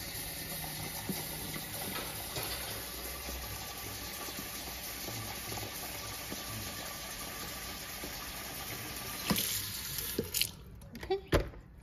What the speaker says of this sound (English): I'm gonna do maybe like half a pot with water